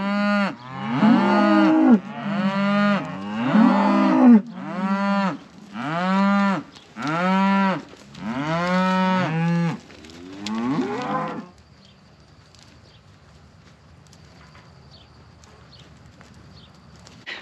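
Cattle let out into a fresh pasture moo loudly and close, a run of long drawn-out calls one after another that stops partway through, leaving quiet outdoor air.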